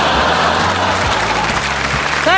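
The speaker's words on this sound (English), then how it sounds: "Give them a big round of applause, ladies and gentlemen." A studio audience claps loudly and continuously on a comedy panel show, with the applause filling the whole moment and a brief musical sting at the end.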